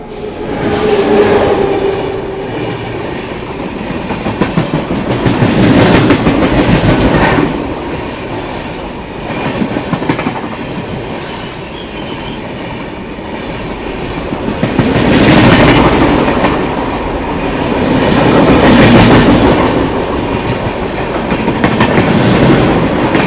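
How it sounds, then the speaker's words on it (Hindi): A train heading away from Madgaon rumbles past the halted Mandovi Express on the Mumbai–Goa route, with loud, close clickety-clack and wheel noise swelling in waves for the whole pass. "मांडवी एक्सप्रेस की क्रॉसिंग की, जो कि अभी आ रही है मडगांव से"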